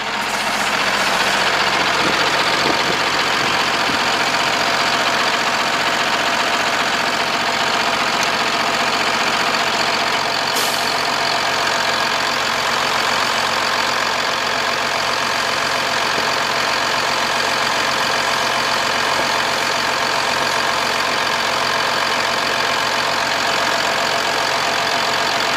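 A 2008 Freightliner Business Class M2 service truck with a Cummins ISB 6.7 diesel idles loud and close, a steady unbroken rumble with a faint knock running the whole time.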